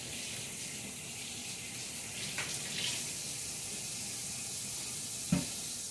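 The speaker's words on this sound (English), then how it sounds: "Now, I'm going to go ahead and wash my hands." Tap water runs steadily in a kitchen for handwashing during cooking, a faint, even hiss throughout, with a brief knock near the end.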